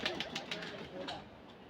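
Soft coos of a large Kaldam pigeon and faint bird calls over a murmur of background noise, fairly close and brief.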